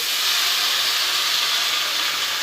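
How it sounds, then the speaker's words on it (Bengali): Potatoes dropped into hot oil seasoned with panch phoron and bay leaf set off a loud, steady, close sizzling hiss that holds evenly throughout. "5 ফোড়ন, তেজপাতা এসব দিয়ে আমি এবারে আলুটা ছেড়ে দিচ্ছি।"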